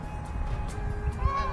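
Several birds, geese or similar fowl, honk and call as they lift off together outdoors on a walk near home, with short repeated calls layered over a steady outdoor background.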